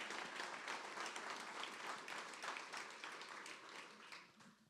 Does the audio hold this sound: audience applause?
yes